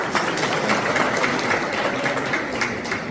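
A crowd at a Haripur panchayat village gathering claps to welcome the guest, Union minister Dr. Jitendra. The dense, steady applause goes on for about three seconds with no voices over it.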